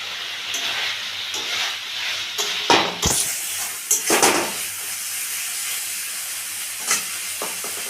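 Bitter gourd curry spiced and cooking in a pan just after a little water is added, giving a steady close sizzle and hiss with a few sharp clinks of stirring, no voices.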